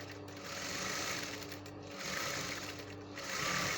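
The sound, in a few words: sewing machine sewing bias binding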